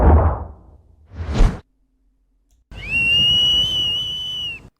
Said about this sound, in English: a video to let people know how to use their whistle